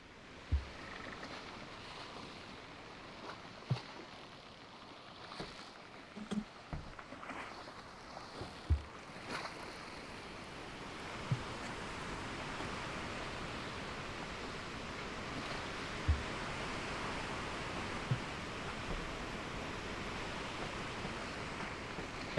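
Sailing boat in the Sailwind video game moving through water under wind, a steady hiss of wind and rushing waves with scattered creaks and knocks from the hull and rigging.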